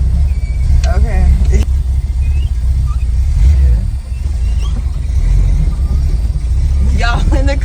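A car with a manual clutch backs up slowly, its steady low engine rumble running loud and close throughout, with a brief dip near the middle and light rattles at the edges.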